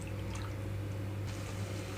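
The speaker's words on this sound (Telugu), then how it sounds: "ఇంకొక రెండు నిమిషాల పాటు ఇలాగే మరగనిస్తున్నాను" Water with salt rolls to a boil in a pot over a high flame, a close, steady bubbling and hiss with faint drips, running alone without talk.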